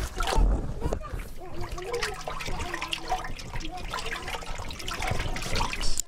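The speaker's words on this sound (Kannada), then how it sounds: "ಇದು ಕಲಸಬೇಕು ರೀ ಸರ್ ನೀರಿನ ಒಳಗೆ" Cow dung stirred by hand into a container of water for a neem and cow-urine pest spray, producing wet sloshing, splashing and trickling throughout, fairly close, with indistinct voices in the background.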